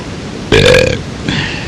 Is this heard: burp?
yes